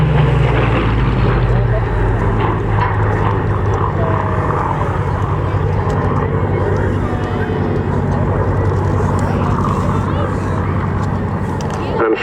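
Mark II Spitfire with elliptical wings flying an aerobatic wingover at an airshow, a continuous loud engine drone and airframe rumble holding steady throughout, with an announcer talking over it.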